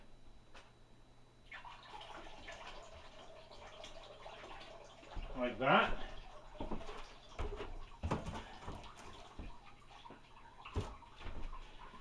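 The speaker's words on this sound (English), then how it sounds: "I just need to fill up my water pot here with the warm water." Warm water runs and splashes into a pottery water pot, with clinks and knocks around it; a voice speaks briefly.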